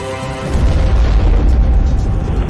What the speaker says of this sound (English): We just had a huge explosion.